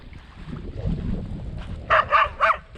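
Sled dogs near a resting bearded seal at a remote northern coast give three quick, sharp barks in a row, close and loud, after a stretch of quiet outdoor rumble.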